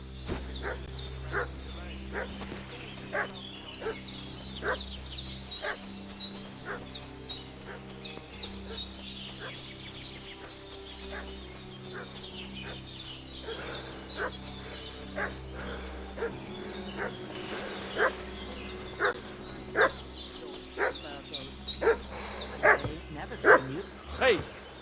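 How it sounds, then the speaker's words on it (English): In the medieval video game Kingdom Come: Deliverance II, a dog barks repeatedly at a distance, with sharp yaps coming in irregular bursts for the whole stretch over a low ambient drone, growing louder and busier toward the end. "What's that dog making such a fuss about?"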